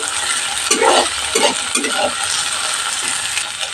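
Chopped green chillies fry lightly in a pan with spring onion greens, a close, loud sizzle broken by several scraping stirs of a spatula in the first half.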